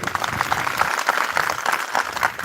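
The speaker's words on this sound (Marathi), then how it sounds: "दादाजीसाठी एकदा जोरदार टाळ्या होऊ दे" An audience claps for Dadaji at a devotional gathering, a steady, dense patter of many hands lasting a couple of seconds with no talking.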